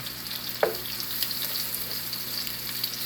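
Meat searing in a pan with flour and seasonings gives a loud, steady close frying hiss throughout, with one sharp utensil clink near the start and no voices.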